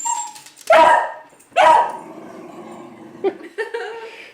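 A dog gives two sharp, close barks, then a few softer yips and whimpers trail off against a quiet background.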